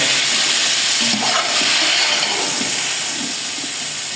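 Half a kilo of tomatoes hits a hot pot of Sindhi biryani, setting off a loud, steady sizzle and hiss close by, with faint scraping under it and no talk.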